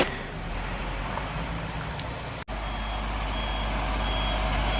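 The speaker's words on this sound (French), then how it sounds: "il y a justement un camion qui est en train de béner" Steady engine rumble of a tipper truck unloading outdoors, with faint intermittent high reversing beeps, partly masked by broadband noise; a brief dropout midway.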